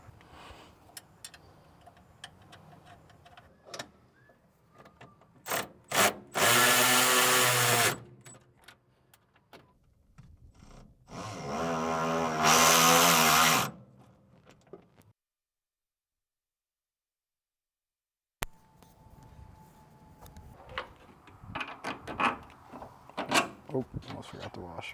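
A power tool drives bolts on Gen 1 Mustang coilover suspension with sockets, two loud sustained whirring bursts of a few seconds each amid scattered metallic clinks, taps and handling noise close by.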